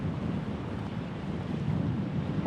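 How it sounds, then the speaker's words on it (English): Strong wind on the Skye Trail buffets the microphone in a continuous low roar, gusting slightly louder toward the end, with no voices. "But now, of course, it's very windy."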